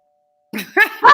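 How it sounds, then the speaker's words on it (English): A doorbell chime rings out with a few clear, loud tones in quick succession after a moment of silence, with no other sound around it. "Is that the bell?"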